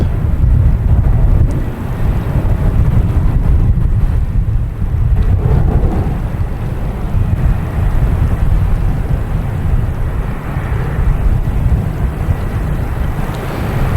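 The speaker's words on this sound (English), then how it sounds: "now finally, the Lufthansa A340-600 lining up" Lufthansa Airbus A340-600 lining up for takeoff at Boston Logan Airport, a deep continuous engine rumble heard from a distance, with wind buffeting the microphone throughout and no speech.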